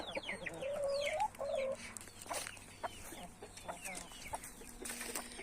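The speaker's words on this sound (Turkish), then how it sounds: "Hakiki Hint tavukları bunlar da." Turkeys cluck and gabble nearby, with a few clearer calls early on over a quiet outdoor background.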